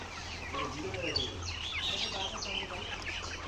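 Layer hens on a poultry farm cluck and chirp continuously at moderate distance, a busy overlapping flock sound with a low steady hum underneath.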